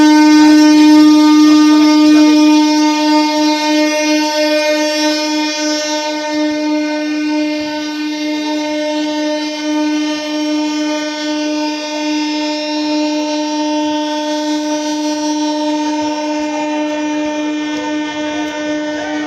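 A train at Tarakeswar station sounds a long, loud sustained horn, its strong tonal blare holding for many seconds and slowly easing slightly, with faint rumble beneath and no speech.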